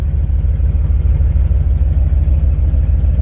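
A 1947 Mercury Coupe engine, just started and still cold, idles close by with a steady, low, throbbing rumble that never lets up.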